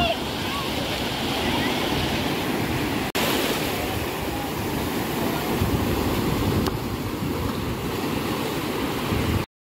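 Sea waves rolling onto Tarkarli beach in Konkan, a steady broad wash of surf with wind noise on the microphone, loud and continuous with a brief dip partway through.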